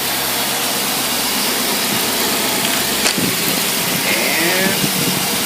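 An AFB 24-valve engine set runs steadily and loud, then dips and climbs to a harsher, more strained roar as a load is put on it, with no talking.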